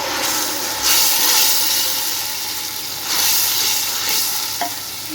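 Masala paste of chilli and tomato fries in ghee in a pot, a loud continuous sizzle with louder hissing surges as it is stirred, up close and without talk.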